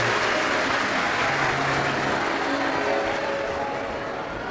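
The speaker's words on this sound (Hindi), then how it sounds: "एक बार यजमान परिवार के लिए जोरदार ताली बजाकर स्वागत वंदन अभिनंदन।" Sustained applause from a large audience welcoming the host family at a Shiv Mahapuran religious discourse gathering, a dense steady clapping wash lasting throughout without pause.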